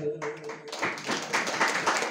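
An audience at a devotional bhajan event bursts into dense, lively clapping close by after a voice finishes speaking.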